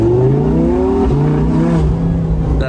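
Naturally aspirated V10 engine of an Audi R8 accelerating hard, loud and close from inside the car, its rising howl sweeping upward through the gears as a clear harmonic tone.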